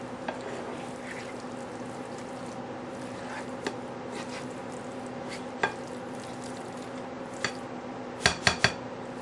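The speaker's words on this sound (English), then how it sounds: "So I'm just going to stir this around." Chunks of hot steak being stirred around in a pan, with soft scraping and faint sizzling under a steady hum, then a quick burst of sharp utensil clinks against the pan near the end.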